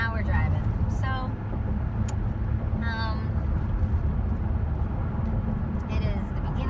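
Low, steady road rumble from inside a moving car on an autumn drive, running beneath people talking.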